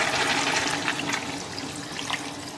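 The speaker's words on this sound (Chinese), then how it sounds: "倒里，然后来点水" Water poured into a pot of Chinese braised chicken with carrots and mushrooms, a steady splashing stream lasting a few seconds, close and fairly loud, with no talk over it.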